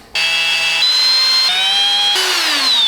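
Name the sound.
power drill drilling metal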